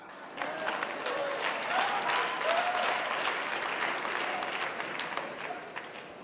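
Archbishop Kodja's sermon audience breaks into sustained applause with some cheering, dense clapping that holds steady for about six seconds with a few voices rising through it.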